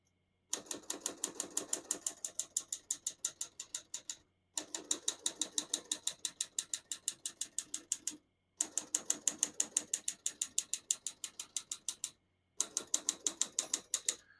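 A 1954 Olivetti Lettera 22 portable typewriter clacks out rapid, evenly spaced keystrokes in four bursts separated by short pauses, with a crisp mechanical rattle and no voices.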